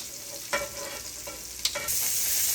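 Peppers and onions stirred around in a hot pan, a steady sizzle with a few sharp scrapes and clacks of the utensil spread across the moment, no talk.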